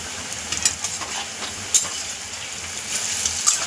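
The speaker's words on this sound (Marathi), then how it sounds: "असेच आता आपण पूर्ण व्यवस्थित फ्राय करून घेऊया" Alu vadi, colocasia leaf rolls, deep fry in oil over a medium flame, a soft continuous sizzle with small bubbling pops and occasional sharper crackles, alone without talk.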